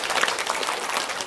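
Students clap together in a classroom game, a brief burst of dense, close clapping that stays even in level.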